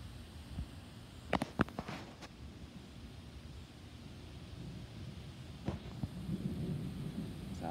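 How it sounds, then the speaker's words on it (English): Distant thunder from a thunderstorm rolls in as faint low rumbles, with a couple of sharper cracks early and another rumble later, over quiet outdoor background. "Funny enough, I am hearing thunder over there again."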